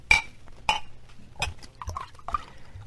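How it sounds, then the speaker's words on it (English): A drink is poured from a bottle at an Old West saloon bar: several sharp glass clinks spaced apart, with brief gurgling splashes of liquid in between, close and fairly quiet. "Leave it on the bar, Harry. We'll pour our own"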